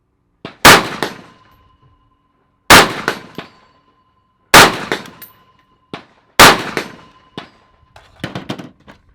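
Double Star STAR-10B rifle shots at an outdoor range, each sharp, loud crack followed by a metallic ding from a steel popper target, spaced a couple of seconds apart with a few quicker bursts near the end.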